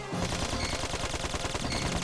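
Gunshots from the Dark Cloud 2 role-playing game, fired at enemies in a dungeon. A dense run of rapid shots plays continuously and loud, with no voices.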